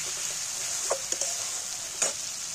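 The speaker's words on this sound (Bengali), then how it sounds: "মশলাটা ভাজা হয়ে গেছে, তেল ছেড়ে দিয়েছে," Spice paste sizzles steadily in hot oil while a utensil stirs it, with a few sharp scraping knocks standing out against the constant frying hiss, close and alone.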